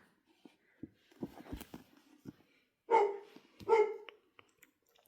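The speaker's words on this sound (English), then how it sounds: "but she's barking at something." A dog barks in two loud bursts, each a quick cluster of sharp barks, with softer clicks and rustles in the quiet between.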